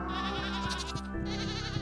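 A goat on a Stardew Valley video game farm gives a short wavering bleat, clear and close over a steady background of game music.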